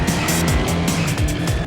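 A restored Ford Mustang race car in the racing game Grid drives hard, its loud engine rising and falling in repeated quick revving sweeps as it shifts through gears.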